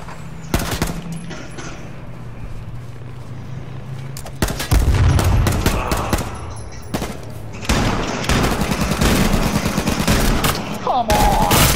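Bursts of automatic gunfire crackle in the H1Z1 video game, rapid volleys starting and stopping repeatedly, loud and close, with players talking intermittently in the background.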